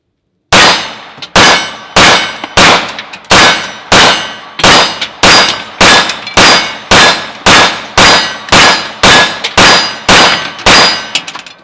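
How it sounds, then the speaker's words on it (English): A CZ75 SP-01 Tactical pistol fires a full magazine of Winchester White Box ammunition: about sixteen loud, sharp shots at a steady, fairly quick rhythm, each with a ringing metallic tail, and no talking. "we're going to go ahead and shoot this full magazine of the Winchester White Box"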